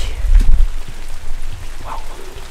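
Rain falling outdoors, with a close, fairly loud patter and a heavier thump at the start before it settles into a steady spatter.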